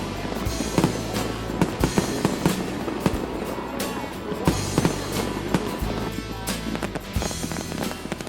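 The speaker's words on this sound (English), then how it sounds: "Another excuse to shoot off a bunch of fireworks." Fireworks crackle and bang through a winter celebration in Anchorage's Town Square, a dense, continuous barrage of sharp pops and booms layered over one another with only brief lulls.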